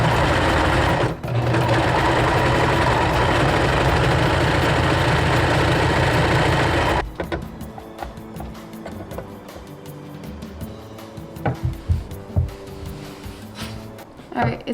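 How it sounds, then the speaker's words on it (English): A serger stitches the seams of wide legged pants, a loud continuous high-speed whirring run of about seven seconds with a brief hitch, then stops, followed by quieter handling and rustling of fabric. "So I'm gonna sew these, or I guess serge these together"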